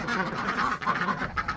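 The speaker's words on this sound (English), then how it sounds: "There you go, ducks." Ducks quack steadily and close by on a homestead during feeding time, a busy cluster of overlapping calls running the whole way through with no pause.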